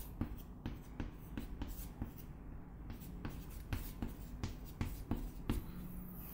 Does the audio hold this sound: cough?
no